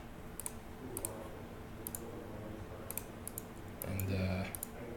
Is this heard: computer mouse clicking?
yes